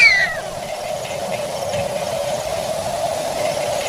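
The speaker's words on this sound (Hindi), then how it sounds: "बिल्ली ने इतनी अजीब तरीके से आवाज लगाई जो सामान्य नहीं है।" A cat lets out a strange, drawn-out meow on a quiet street at midnight. The single brief cry comes right at the start over a steady hiss of background noise, with no speech.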